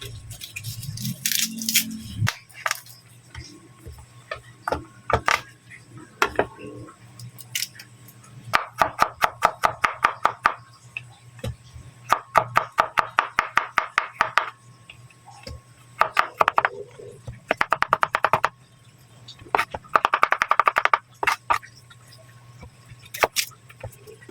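Knife chopping onion and garlic on a cutting board in a home kitchen, bursts of rapid, crisp taps separated by pauses, close and fairly loud against a faint steady hum.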